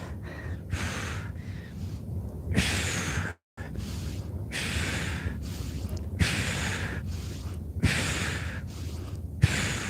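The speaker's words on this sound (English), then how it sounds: "I like to breathe on the way down." Heavy, rhythmic breathing during a set of push-ups, close to the mic: long loud inhales and exhales repeat in a steady cycle with short gaps, and no talking.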